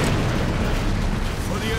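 Heavy booming explosions from grenades in the video game Space Marine fill the clip, a dense loud rumbling blast that sits close and continuous with no pause.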